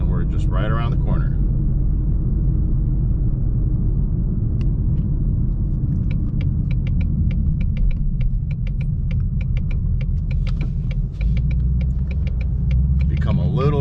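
A car drives around Las Vegas near the Shelby American factory. A steady, loud low engine and road rumble fills the cabin throughout, with light rattling clicks in the middle and brief talk near the start and end.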